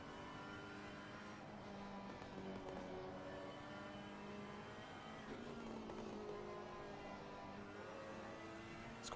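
Race car engine in Assetto Corsa Competizione at Suzuka, droning steadily with rising and falling pitch as the throttle is worked between corners, loud and continuous with no talk over it.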